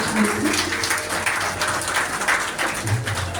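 Light, scattered clapping from an audience at a school graduation convocation as degrees are conferred, moderate in level and uneven in rhythm, with a faint murmur beneath.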